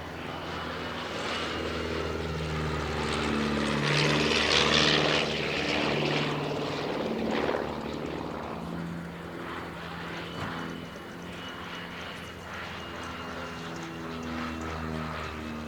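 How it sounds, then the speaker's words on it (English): Vintage Miles Falcon propeller aircraft flying at an evening air display at Shuttleworth, its engine drone steady and fairly loud throughout, swelling briefly as it passes, with faint background murmur. "And from the right we have the Miles Falcon and the Miles Pagata."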